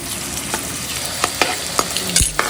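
Garlic sizzles in a pan for a rustic crab curry, a steady frying hiss punctuated by several sharp spoon clacks and scrapes against the pan, close and prominent, no talking.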